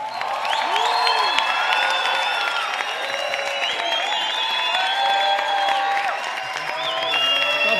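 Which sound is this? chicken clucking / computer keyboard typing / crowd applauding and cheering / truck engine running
crowd applauding and cheering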